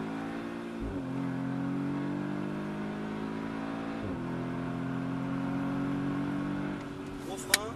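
An Audi S3 accelerates hard on the Anneau du Rhin race circuit, its engine note climbing steadily and then dropping briefly at two gear changes before rising again, heard from inside the car.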